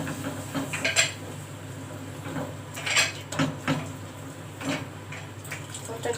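Macaroni in a milky bechamel sauce being stirred in a pot, with soft scraping and clinking of the spoon against metal in irregular strokes, close and moderately quiet over a steady low kitchen hum.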